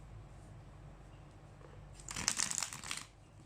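A deck of tarot cards being shuffled by hand, a brief burst of crisp riffling and crinkling lasting about a second, fairly close and louder than the quiet room background.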